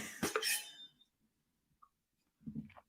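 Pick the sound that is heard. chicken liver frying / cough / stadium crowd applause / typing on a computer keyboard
cough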